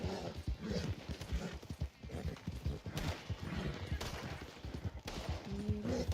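An Arabian horse gallops in the Red Dead Online video game, its hoofbeats a steady rapid rhythm that runs the whole way through, close and fairly loud, with occasional sharper cracks.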